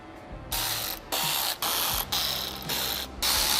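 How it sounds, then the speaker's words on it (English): A ratchet backing out T15 Torx bolts from the fender liner of a 2015-2019 Chevy Silverado, heard as several close, loud bursts of rapid clicking separated by short pauses. "We will first remove these 6T15 Torx bolts."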